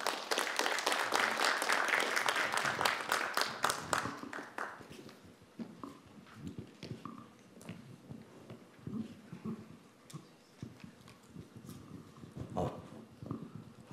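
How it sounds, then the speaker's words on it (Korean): Audience applause at a cultural forum on arts and technology, a dense burst of clapping for about four seconds that thins into scattered claps and faint room noise. "큰 박수로 청해 듣겠습니다"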